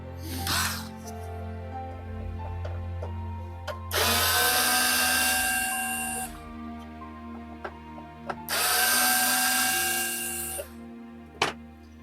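Power screwdriver whirs in two sustained bursts while removing screws from an Xbox One console during disassembly, with small clicks and handling taps between the runs, close and fairly loud.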